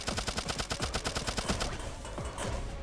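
Rapid bursts of gunfire from a boss fight against Mecha-Chad in the video game Turnip Boy Robs a Bank, a steady rhythmic volley through the first half that thins into scattered shots and game effects.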